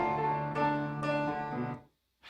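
A short piano phrase of a few sustained chords, struck near and clearly, ringing out together before fading to silence, with no voices.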